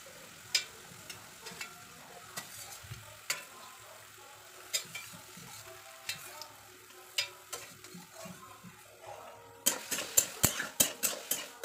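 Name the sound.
potatoes being stirred and fried with spices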